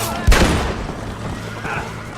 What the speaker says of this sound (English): Why did I shoot the ground?